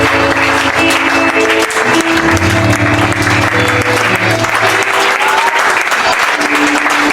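A church congregation bursts into loud, sustained applause and cheering for Jesus, dense clapping filling the space from start to finish while a musical tone hums underneath.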